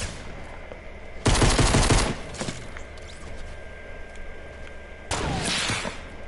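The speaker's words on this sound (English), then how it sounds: "I spammed all my bullets until I ran out." Rapid video game gunfire rattles out in two loud bursts, one early and one near the end, each a dense volley of shots with quieter game noise between.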